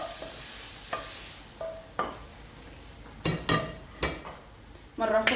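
Shrimp cooking in olive oil in a pan for Moroccan briouats, with a soft sizzle beneath repeated clinks and scrapes of stirring that come in short, uneven bursts, close by.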